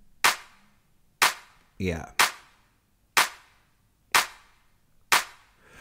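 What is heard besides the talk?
clap samples with reverb in Ableton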